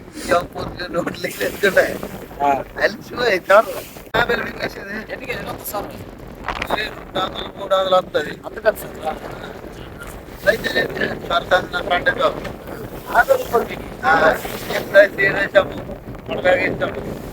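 Strong wind at sea roars and buffets a fishing boat in uneven gusts, loud and close, with voices talking underneath.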